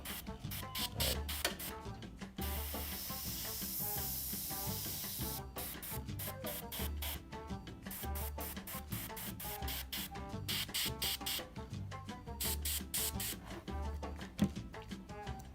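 Airbrush spraying Mission Models acrylic paint, a steady close hiss in repeated bursts of a second or two separated by short pauses, sometimes held longer.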